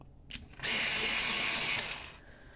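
A pencil being sharpened for a colouring page: a close, single mechanical grinding whir lasting about a second and a half, then fading out, with no voices.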